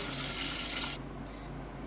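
A glass of water pours into washed lentils with tamarind and peanuts for dal dhokli, a steady close splashing that stops abruptly midway, leaving quiet room tone.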